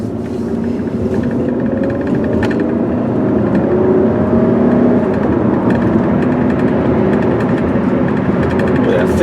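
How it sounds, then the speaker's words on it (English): A 2002 Hyundai XG350L sedan accelerates through its gears, its engine a steady, loud drone that climbs in pitch, heard from inside the cabin with continuous road noise. "Yeah, 55 miles an hour, no problem. Smooth as silk through the gears."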